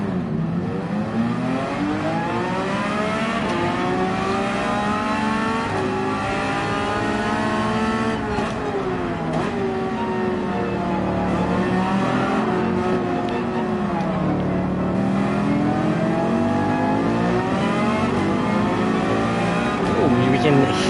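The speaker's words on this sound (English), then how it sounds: "Throaty, very deep and throaty V8." A Mercedes-AMG race car with a deep, throaty V8 revs hard on the Yas Marina circuit, its steady loud engine note rising and falling through the gears for a long stretch.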